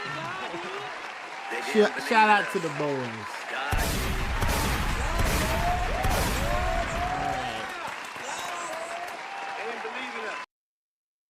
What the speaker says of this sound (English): So first off, let's clap it off.